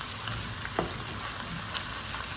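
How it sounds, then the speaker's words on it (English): Meat for chili browning in a very hot pan, a continuous moderate sizzle and crackle with a few faint ticks and no voices. "you can see the meat's browning because the pan is really hot right now"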